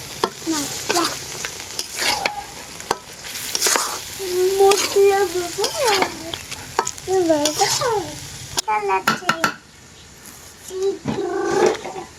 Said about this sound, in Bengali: এখন মাংসগুলোকে দিয়ে দিচ্ছি, আর এই মাংসটাকে অনেকটা সময় ধরে কষিয়ে নেব